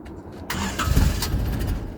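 An old Isuzu Rodeo 2.8 diesel with starting issues cranks and catches after a long glow, a quick rising churn that settles into a rough, loud idle close by.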